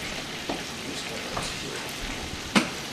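Blue oyster mushrooms sauteing in a pan on a busy stovetop, a steady soft sizzle with a few brief clicks and a sharper tap near the end, no talk.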